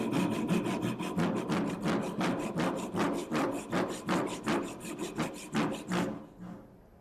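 A hand saw cuts through wood in quick, steady back-and-forth strokes, close and loud, then stops.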